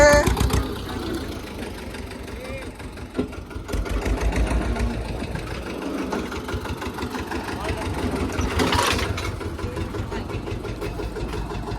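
A tractor engine runs steadily throughout field work for maize sowing, a constant rumbling drone with voices talking over it.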